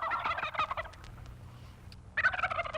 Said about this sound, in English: The turkeys are loose in Custer County.